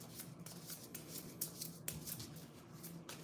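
Tarot cards being shuffled and pulled by hand, a close, quiet run of papery riffles and crisp flicks in irregular bursts, with no talking.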